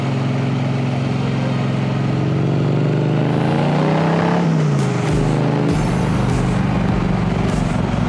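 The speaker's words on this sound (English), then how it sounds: "Nice little bit of rumble from the engine." A motorcycle engine rumbles steadily from the rider's seat, a loud, continuous low drone with pitch rising and dropping around the middle as the throttle changes, then settling back into a constant hum.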